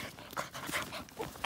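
A Karelian-Finnish Laika dog pants in quick, rhythmic breaths, close by but faint.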